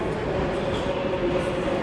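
A train moving through a railway station in Scotland, heard from a level above the tracks as a steady, continuous rumble with no clear breaks.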